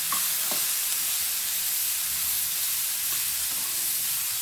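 Cluster beans and onion sautéing in a pan make a steady hiss, with a few faint clicks of a spoon stirring. No one speaks.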